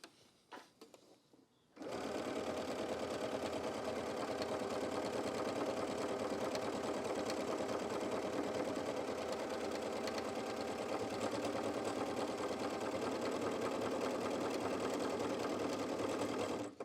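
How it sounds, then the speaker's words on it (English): A sewing machine stitches a buttonhole, running in a loud, continuous mechanical whir with a rapid rhythmic needle clatter after a few faint clicks and a short pause at the start. No one talks. "we're ready to sew"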